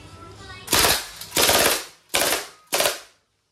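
A Crosman MPW Bushmaster airgun fires full automatic in four loud, close bursts of rapid shots, each ending abruptly, with brief pauses between.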